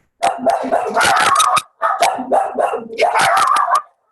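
A dog barks repeatedly and loudly nearby in rapid, excited bursts, with a short pause before another volley of yipping barks.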